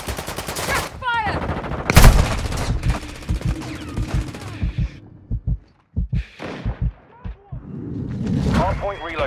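Gunfire in the mobile shooter Call of Duty Warzone Mobile: a loud burst of shots, then scattered sharp single and double reports, mixed with in-game radio voices and effects.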